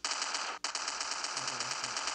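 Rapid automatic gunfire in a shooter video game, a fast steady string of sharp shots with a brief break, fairly quiet and without talk.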